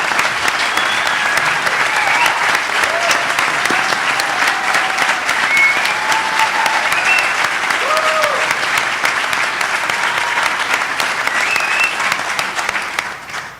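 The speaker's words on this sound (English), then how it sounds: "I'm humbled by your applause" Sustained applause from a large audience at a Florida House District 6 Republican debate, steady and loud throughout, with a few faint voices and whistles mixed in before it tapers slightly at the end.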